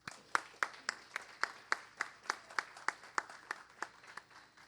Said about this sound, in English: If we can just give a brief round of applause for all of our candidates.